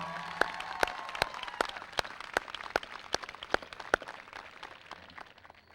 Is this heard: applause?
yes